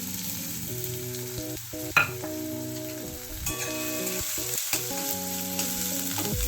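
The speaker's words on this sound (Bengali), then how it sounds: "গরম হয়ে গেছে আমি এবার পেঁয়াজটা সব দিয়ে দেবো" Onions sizzling in hot mustard oil in a pan, a steady close frying hiss with clinks of stirring, no speech.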